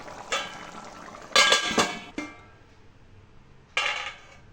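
A lid set onto a pot of chicken gravy, heard as a few close metallic clatters and scraping knocks of varying length, with a quiet simmer between them.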